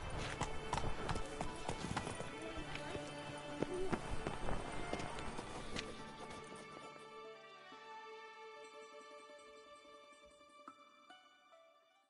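Roach, Geralt's horse in The Witcher 3: Blood and Wine, gallops in rapid rhythmic hoofbeats that are loud at first, then slow to a lighter clopping as the game's ambient sound carries on.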